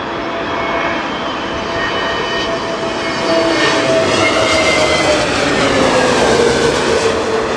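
An Airbus A320neo-family airliner at London Heathrow during gusty stormy weather, its jet engines roaring loudly and steadily for several seconds, with a slowly falling whine over broad rushing wind and engine noise and no talk.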